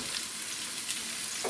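Burger patties sizzle steadily in a hot pan, a dense, even frying hiss that stays close and loud throughout without a break.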